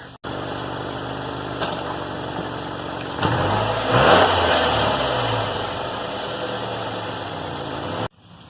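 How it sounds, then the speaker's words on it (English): A Subaru Forester Sport engine runs with a steady mid-pitched hum, then swells with a gentle rev near the middle before settling back to an even idle, loud and close. "here's what the Subaru Forester Sport sounds like"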